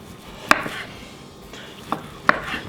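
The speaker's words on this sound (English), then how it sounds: "What I like to do is take the steaks and cut them to nice little strips." Seared steak sliced into strips on a cutting board, three sharp knife taps spaced apart with soft cutting rasps between them, close and otherwise quiet.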